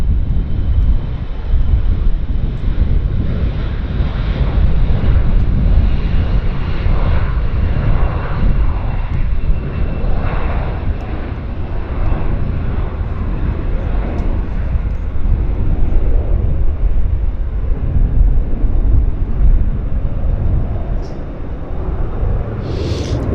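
Embraer jet airliner climbing out after takeoff at Vancouver International Airport, a loud sustained engine roar that fills the whole stretch and fades slightly near the end.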